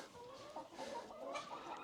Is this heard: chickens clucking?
yes